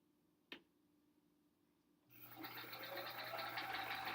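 A sewing machine stitches a quilt block, beginning after a single soft click and about two seconds of near silence, then settling into a steady, fairly faint running hum.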